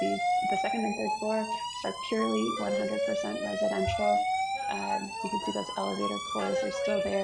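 A fire alarm sounds inside a building during a design review committee meeting, a loud repeating electronic tone with a rising sweep that continues steadily while a person keeps talking over it.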